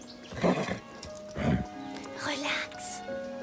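A horse snorts and whinnies in a few loud, close bursts over a steady background, with hushed voices of people in the scene around it.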